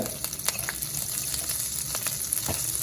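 Curry leaves sizzling in hot oil in a pan as they are lightly stirred, a steady crackling fry with occasional soft scrapes and clicks of the spoon, close and fairly quiet, with no talking.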